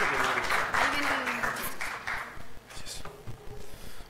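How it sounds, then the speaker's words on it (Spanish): Audience at a regional speech therapy conference applauding a speaker, a moderate round of clapping that tapers off, with a few voices murmuring underneath. "Un aplauso, por favor."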